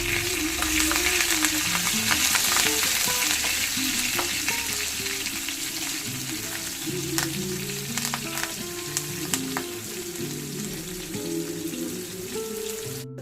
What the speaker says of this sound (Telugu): రొయ్యలు ఫ్రై అయిపోయింది.